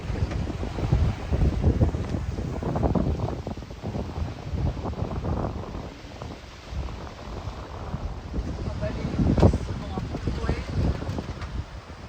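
Strong wind of about 22 knots roars and buffets across a sailboat at sea under genoa, with water rushing past the hull, steady and loud throughout with gusty swells; a voice speaks over it.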